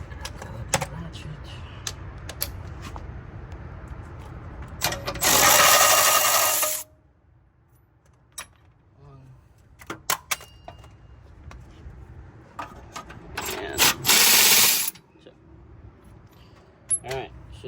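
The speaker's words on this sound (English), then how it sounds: "Got the ratchet." A ratchet clicking in quick rapid bursts while loosening coilover bolts on a Volvo 700/900 series, close and sharp, with scattered metallic taps and bumps between the bursts.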